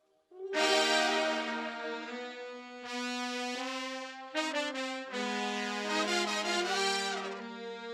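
A dry recorded brass instrument blended with reverb, playing a continuous phrase of sustained and shifting notes, full and close with a soft ambient tail, no voices.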